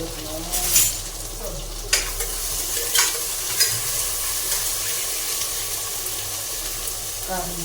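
Onion frying in a pan with ginger-garlic paste just added for a vegetable pulao, a steady sizzle running throughout, and occasional spoon scrapes and stirs on top.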